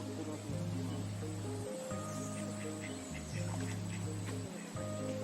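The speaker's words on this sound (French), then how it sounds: "Tiens, des canards." Ducks quacking in a garden setting in Martinique or Guadeloupe, fairly faint repeated quacks over a steady low hum and background noise.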